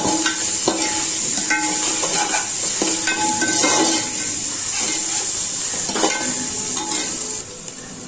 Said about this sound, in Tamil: இஞ்சி பூண்டோட பச்சை வார்த்தை போகிற வரைக்கும் நல்லா வதக்கிக்கணும்